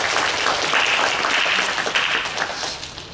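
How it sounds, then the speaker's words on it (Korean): A church audience at a Korean congregation's Sunday youth service applauds, a dense burst of clapping that holds steady for a few seconds and then begins to fade. "박수 한번 주세요"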